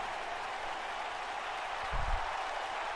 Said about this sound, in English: So Dana gets into the ring, has the crowd anticipating the new Raw Women's Champion.